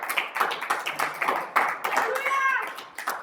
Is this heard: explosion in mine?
no